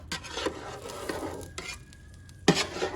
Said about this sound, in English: So I'm just gently stirring them.